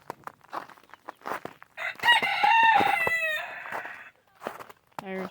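Homestead chickens cluck in short bursts before a rooster crows once loudly and nearby, followed by more scattered clucking, on a snowy January farm.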